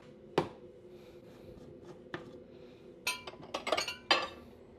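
A spoon or scoop clinks against a glass or shaker while a pre-workout drink is mixed, giving a few sharp isolated taps followed by a quick cluster of close clinks.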